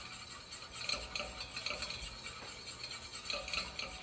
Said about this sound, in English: You want to cook a little bit so you get the taste of the flour out. Cook the flour down.